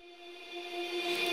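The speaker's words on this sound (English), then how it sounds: "A reverse part of the first word she sings. Bounced with a lot of reverb" Reversed sung word drenched in heavy reverb, a faint, short swell that rises steadily in loudness with a sustained pitched tone, sucked backward into its start.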